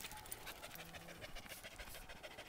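A puppy at a dog shelter pants in quick, rapid breaths, faint and close, steady throughout under a low room hum.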